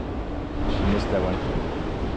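Ocean surf at Jeffreys Bay on a cold, breezy morning, a steady broad wash of breaking waves and wind noise on the microphone, continuous and fairly loud.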